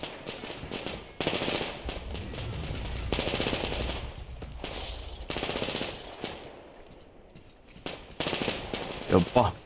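Sustained enemy gunfire in a firefight in the video game Metro Exodus, with loud bursts of machine-gun fire and overlapping shots over several seconds, briefly easing before more bursts near the end.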